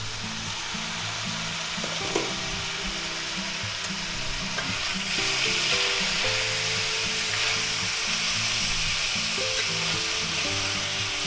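Ground beef and vegetables with softening beans stir-fry in a hot pan, a loud continuous sizzle with occasional scrapes of stirring over a steady tonal hum, no voices.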